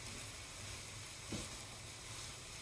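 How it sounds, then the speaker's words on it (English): A faint, steady sizzle of egg fried rice cooking in a pan, with one brief soft clatter midway and no talking. "Now you can hear that sizzling."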